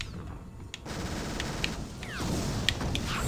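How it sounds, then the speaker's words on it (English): Repeated weapon fire from a flare gun in the video game TimeSplitters: Future Perfect: sharp shot bursts recur across a dense, busy game mix, with several distinct reports standing out over continuous background action. "Flare gun keeps it nice and simple."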